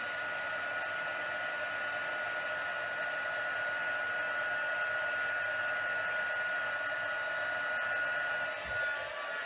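During paper card crafting, a heat embossing tool runs continuously and close, its hot-air fan giving an even whirring hiss with a thin tonal whine and a small bump near the end.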